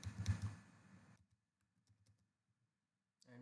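Computer keyboard keys clatter in a quick burst of typing while values are entered in AutoCAD, then go quiet with a few faint isolated taps and a final key press at the end.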